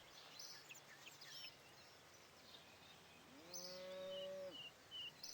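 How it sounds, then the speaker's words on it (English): Cattle moo in the RuneScape 3 video game, one long, clear, drawn-out low moo near the end over a quiet game background with faint chirping bird sounds. "Oh, there's some cattle."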